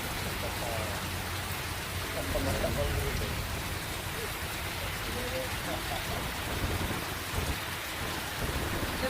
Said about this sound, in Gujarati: વરસાદ પડતા રોડ ઉપર પાણી વહેતા થયા હતા